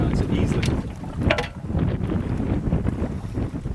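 Steady, strong wind rushes and buffets across a sailboat at sea in a roughly 10-knot easterly, a constant close roar with water and boat noise and voices talking underneath.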